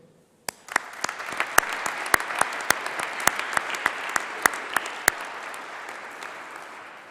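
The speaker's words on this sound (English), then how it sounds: "let's give a round of applause and a huge cheer to say thank you to all of your supporters and the people who made it possible" A graduation ceremony audience bursts into loud, dense applause after a quiet moment, with sharp individual claps popping out rhythmically through the sustained clapping before it slowly tapers off.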